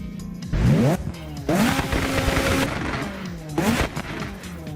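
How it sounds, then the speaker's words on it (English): A loud, high-revving modded JDM sports car engine in the racing game Assetto Corsa climbs through gears with sharp pops and brief drops between shifts, close and continuous. "I just love the amount of work that all of these modders put into the engine sound."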